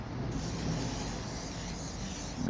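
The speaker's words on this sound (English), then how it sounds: "we're going to use the Ambre Solaire Dry Mist sun protection factor 30, which is this one, and I'll take the lid off and spray it on" Ambre Solaire Dry Mist SPF 30 sunscreen sprayed from an aerosol can, a steady close hiss lasting a couple of seconds with no talk.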